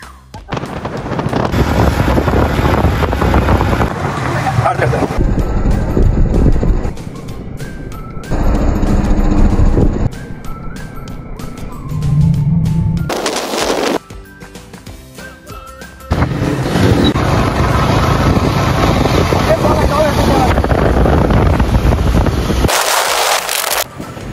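A motorbike ride along the road from Pudukkottai to Thanjavur, with loud, continuous wind roar buffeting the microphone in long surges and brief drops, the engine largely buried beneath the rushing air.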